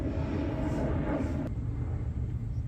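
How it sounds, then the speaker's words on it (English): Airplane passing overhead above a summer home garden, a loud broad engine roar that fills the clip and then drops off abruptly partway through. "Let me pause for the airplane because it's loud."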